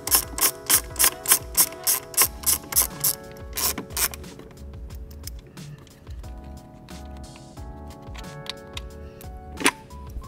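Hand ratchet loosening 10 mm nuts on the ECU holder of a VW/Audi MK7 GTI, Golf R, A3 or S3, close rapid clicking strokes in a quick rhythm, then slower scattered clicks and metallic handling noises.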